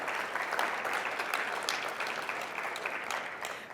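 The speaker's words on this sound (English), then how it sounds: "Let's give them all a round of applause" An audience at a law school scholarship donor and recipient reception applauds the donors, a continuous, even wash of many hands clapping in a room, moderately loud and without talk.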